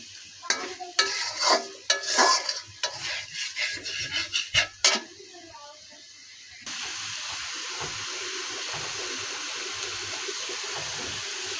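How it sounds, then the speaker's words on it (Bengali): Shrimp sizzling in a pan with scraping, stirring strokes for about five seconds, then a steady, even frying hiss continues alone. "ভাজা ভাজা করে কষাচ্ছি"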